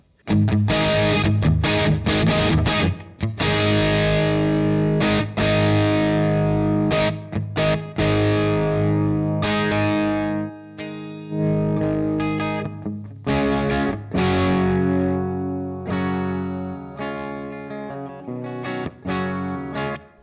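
A Gretsch G5222 electric guitar plays loud distorted chords and riffs through an amp, drenched in reverb and chorus, with short pauses between phrases.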